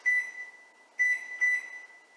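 Keypad beeps from a 1200 watt Samsung microwave while its timer is set: three short, clear electronic beeps, one on its own and then two close together, in a quiet room.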